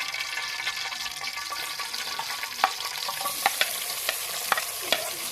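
Chopped onion frying in hot oil in a cooking pot, a steady soft sizzle with scattered small pops and occasional sharper crackles as it is stirred, close and alone without talk.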